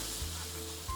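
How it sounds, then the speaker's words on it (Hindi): Finely chopped medium onion hitting hot oil in a pan for vegetable soup, a steady close hiss of sizzling with a couple of soft bumps, no voices. "अब मैं इसमें प्याज डालूँगी।"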